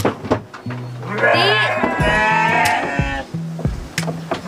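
Sheep bleating in a pen, with several loud, drawn-out wavering bleats close by, one after another, over low background murmur.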